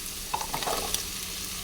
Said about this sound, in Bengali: এটাকেও ভালো করে ভেজে নেব